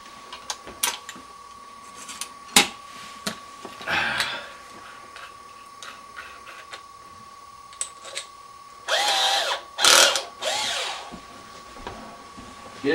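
A power drill with a twist bit whirs in short bursts while trimming a door lock misalignment, a few brief spins, then longer louder runs near the end, close by with no talk.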